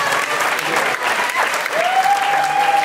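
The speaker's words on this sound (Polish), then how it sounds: "ogromne brawa dla całej piętnastki, bo to przecież ścisły finał" Audience applauding the fifteen finalists at a festival final gala, loud sustained clapping from a large crowd filling the hall throughout.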